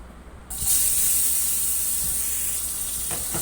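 Chopped onion hits hot oil already tempered with whole dried red chillies and cumin seeds; after a brief quiet, a sudden loud sizzle bursts out and settles into a steady hiss.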